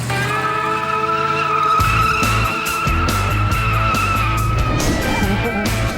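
A car sliding and squealing its tires while driven up on two wheels for stunt tricks, loud engine and repeated tire screeches, with a brief rev break before the skidding resumes.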